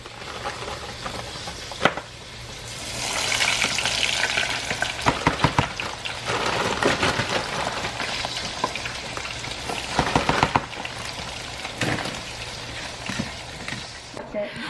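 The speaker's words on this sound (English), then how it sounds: "I'm going to make some breaded okra. So all we're gonna do is drop that in there and just fry it up." Breaded okra deep fries in a small home fryer, a loud continuous crackling hiss like rain with bursts of sharper popping and occasional clatter, close by, while a voice is heard faintly at times.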